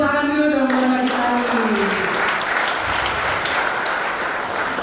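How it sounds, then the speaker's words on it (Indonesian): An audience at a mental health talk gives sustained applause for a speaker, a thick, even burst of clapping, while a voice rings out at the start. "beri tepuk tangan dulu dong buat Mbak Gita"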